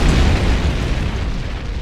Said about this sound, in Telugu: అది పేలిపోయింది.